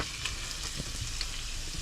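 Food fries in a pan inside a camping-car kitchen, a steady close sizzle and crackle with occasional soft stirring scrapes and no voices.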